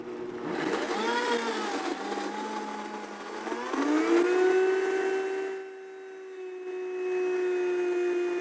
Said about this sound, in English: then we're going to turn the blender back on and slowly emulsify with our olive oil